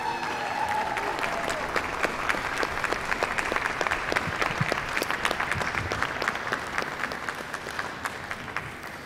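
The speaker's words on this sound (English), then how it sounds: "That's Aston Martin up there, applauding, by the way." Members of the Aston Martin team applaud during the unveiling of the Aston Martin DB10 for the Bond film Spectre, sustained clapping from a crowd that builds and holds steady, with a faint voice early on.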